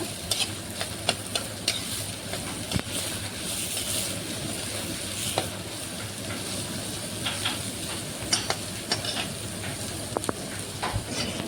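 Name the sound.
onion frying in a pan until pink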